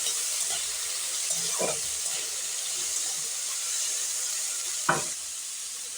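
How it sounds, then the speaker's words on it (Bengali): Cauliflower, carrots and beans frying together in a pan give a steady, even sizzling hiss throughout, with a couple of brief louder scrapes or stirs near the middle and end, no voices. "গাজর আর বিনসটা যেটা কাটা ছিল সেটা দিয়ে দিলাম দিয়ে আবারও ভালো করে একটু ভেজে নেব সব কিছু একসঙ্গে"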